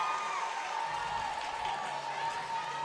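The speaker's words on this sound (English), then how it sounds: "The crowd is excited." A dense, steady crowd roar with scattered cheers and clapping runs throughout after a scoring play at a 2019 women's football game between the Divas and the Columbus Comets at the St. James.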